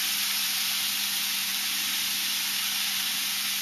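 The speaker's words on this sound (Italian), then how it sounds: "Adesso vado a sfumare con un po' di shoyu" Shoyu poured into a hot pan of soybean sprouts and chopped green beans sends up a steady, loud hiss and sizzle of steam that continues without a break.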